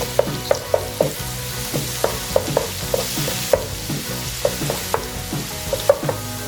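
Liver fries in plenty of oil with ginger garlic, a continuous close sizzle marked by regular, rhythmic knocks of a spatula stirring against the pan.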